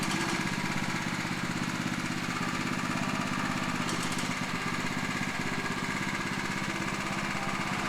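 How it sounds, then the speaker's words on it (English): The small engine of a BCS two-wheel tractor runs steadily in first gear with a chugging, even putter, held at a constant moderate level without any voices. "Start your engine, shift into first gear, and test to see if squeezing the clutch completely brings the tractor to a stop."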